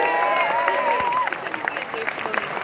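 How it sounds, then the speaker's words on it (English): An audience at a gaming community cantina event applauds the team, clapping and light cheering beneath a speaking voice, fading somewhat after the opening moment. "Give a round of applause for the team, please."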